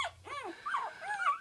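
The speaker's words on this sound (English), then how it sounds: "she had 11 blue Weimaraner puppies." Newborn blue Weimaraner puppies from a litter of eleven whimper and squeal in several short, rising and falling cries, close and fairly soft, with brief quiet gaps between them.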